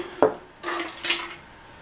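A plastic shaker bottle, BPA free, rattles in a few quick bursts, the whisk ball clattering inside, close and sharp with short pauses between.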